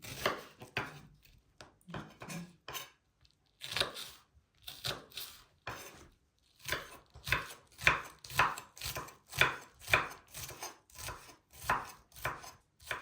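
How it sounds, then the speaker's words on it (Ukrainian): A knife chops an onion into small dice on a cutting board, a quick run of close, crisp strikes with a brief pause before speeding into a steady rhythm. "Цибулю ріжемо мілким кубиком."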